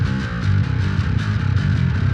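Heavily distorted bass guitar driven through a Darkglass B7K Ultra pedal, a loud, sustained growling riff with thick low end and gritty upper harmonics, played alone.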